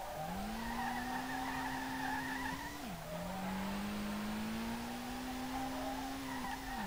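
Nissan R32 drift car with a bigger, more powerful engine in a driving game on the Shinjuku track, a steady high engine whine held at near-constant revs, one brief dip as it shifts, with skidding tyre hiss underneath.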